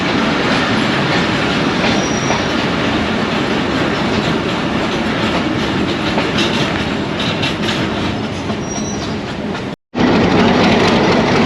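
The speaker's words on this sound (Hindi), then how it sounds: "चक शेर मोहम्मद के खूबसूरत रेलवे स्टेशन पर ट्रेन रुकी थी और अब रवाना हो रही है।" Decorated Dhamaka Express train pulling out of the small Chak Sher Muhammad railway station, heard as a loud, continuous rumble with wheel clatter and occasional faint squeals, briefly cut to silence before resuming.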